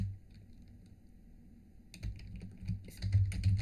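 Keys clatter on a computer keyboard as a new material name is typed into cutting-machine settings, a short quick run of taps starting after a quiet pause and growing louder.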